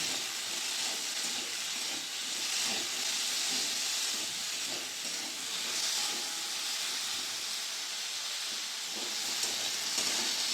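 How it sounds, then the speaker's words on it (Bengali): Potatoes with turmeric and salt sizzle steadily in hot oil, a continuous crackling hiss with small pops and no voices. "আলুটা লাল লাল করে ভালো করে ভেজে নেব"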